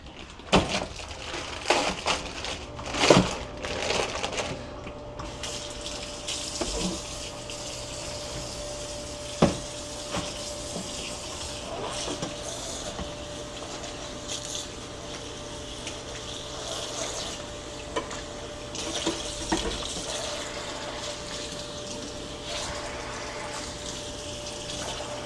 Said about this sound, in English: Let's wash that meat.